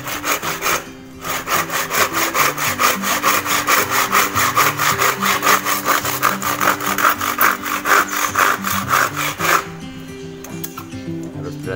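Steady rhythmic sawing through hard, dry bamboo, fast back-and-forth strokes close by, stopping briefly near the start and ending before the final seconds.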